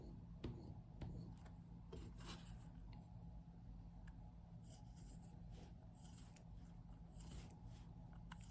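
Steady, faint rasping strokes of a Flexcut Micro V-gouge carving tool being hand sharpened, a continuous scraping rub with a few brief clicks, close and quiet with no voices.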